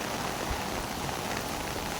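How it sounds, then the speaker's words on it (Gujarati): Heavy rain pours down on farm fields as a dense, unbroken hiss of drops, loud and constant with no other sounds. "હજી તો વરસાદ ચાલ્યો આવે છે"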